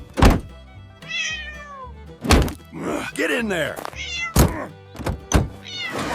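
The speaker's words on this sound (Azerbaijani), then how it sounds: "Pişiyi atır maşına" A cat meows repeatedly in drawn-out, rising cries while it is thrown into a car, with loud thumps of it landing and someone talking between the cries.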